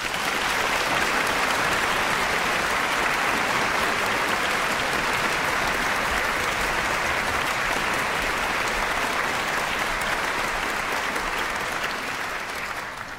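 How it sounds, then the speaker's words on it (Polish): Dense, sustained applause from a large audience at a gala concert in an opera house theatre, loud and even throughout and tapering slightly at the very end. "Poproszę duże brawa."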